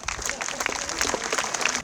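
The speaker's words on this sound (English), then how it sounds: "Give him a round of applause." Audience clapping for John Greendeer at a festival opening ceremony, a brief patter of scattered claps at moderate distance, fairly quiet, with a few sharper claps standing out.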